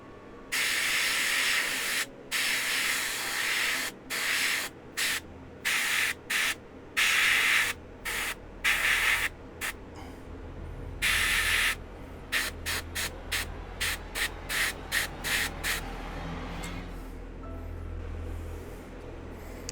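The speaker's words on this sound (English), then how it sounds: "I'm going to use Watercolors Blue No. 2 through the airbrush to get the glow effect going" An airbrush spraying Blue No. 2 watercolour paint onto a model Covenant heavy cruiser gives a loud, close hiss in repeated bursts of varying length with short silent gaps, the later bursts quicker and more clipped.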